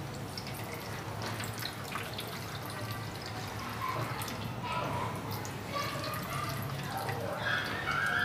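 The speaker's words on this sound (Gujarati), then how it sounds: "હવે આપણે કપડામાંથી આવી રીતે પાણી નીતારી લેવાનું" Water is squeezed out of a cloth bundle of yogurt, and faint, close drips and trickles fall repeatedly over a soft background hum.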